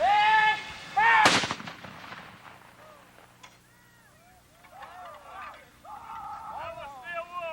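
Civil War reenactors at the 1992 Battle of Perryville reenactment fire a single sharp, loud gun volley early on after a shouted command, followed by scattered voices and crowd chatter in an open field.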